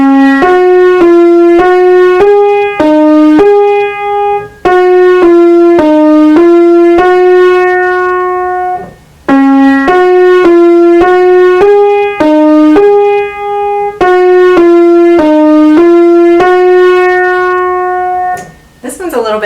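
A piano plays the simple beginner tune Ara Lee, a steady melody of single sustained notes phrased in repeating patterns with brief pauses between phrases, clear and close with no talking over it.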